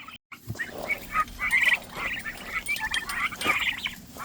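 Backyard farm turkeys in a barn lot make a run of soft, close chirps and clucking calls with a faint rustling background and no talking.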